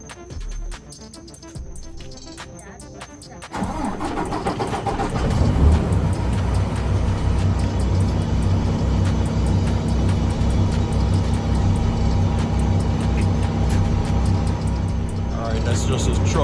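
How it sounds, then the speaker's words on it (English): A heavy diesel engine of a 2015 Peterbilt 579 truck with a Paccar engine cranks and catches, then settles into a loud, steady rumbling idle close by. "That's just a truck being started now."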